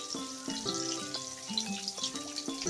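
Green chillies and garlic fry in a hot pan, giving a bright crackling sizzle under a layer of soft, tonal music-like notes that keep shifting.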